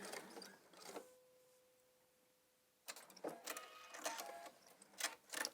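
Sewing machine basting a waistband seam on a garment, quiet bursts of mechanical stitching whirr with clicks, a pause with a faint steady hum, then renewed uneven stitching runs.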